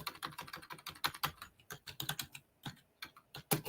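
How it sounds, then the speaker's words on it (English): Rapid, uneven keystrokes on a computer keyboard, close and clear, in bursts with short pauses and no voices over them. "as I'm typing this"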